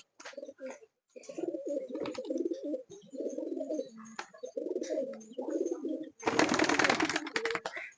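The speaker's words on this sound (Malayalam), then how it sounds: "നല്ല പ്രാവുകള്, ഗംഭീര പ്രാവുകള്" Several pigeons coo close by in repeated low, throaty phrases with short pauses, ending in a loud burst of rustling wings.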